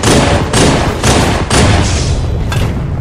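A gold magnum pistol in a capture-the-flag video game match fires about six loud, heavy shots in steady succession, each a booming crack spaced roughly half a second apart with short echoing tails.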